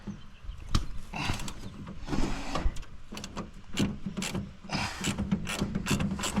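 Metallic clicking and clattering sounds during a field repair of a Massey 492 tractor, with bursts of rapid ratchet-like ticks and knocks up close amid outdoor background noise, no speech.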